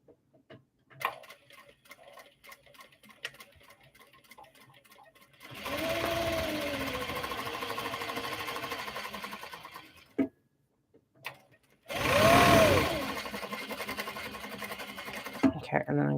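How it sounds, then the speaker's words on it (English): A sewing machine runs through directional print fabric in two sustained stitching runs with a rising whine as it speeds up, separated by soft ticking, handling noise and a brief pause; someone talks at times around the sewing. "We're going to sew the directional prints here."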